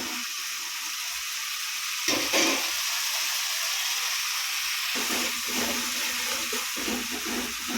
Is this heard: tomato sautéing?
yes